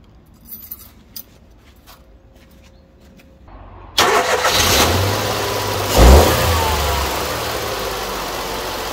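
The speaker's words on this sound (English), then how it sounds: "Let's see if the car starts." Nissan Micra engine starting after a new battery is fitted: a few faint clicks and a short whir, then the engine catches abruptly and idles loudly, with one brief rev a couple of seconds in.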